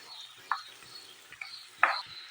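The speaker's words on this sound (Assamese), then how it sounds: "আদা নহৰুখিনিও পিঁয়াজৰ লগত এইদৰে ভাজি লওঁ।" Ginger and garlic paste stirred into frying onions in a pan while making aloo chop, quiet sizzling underneath with a few sharp spatula scrapes and stirring clacks, three distinct strokes standing out.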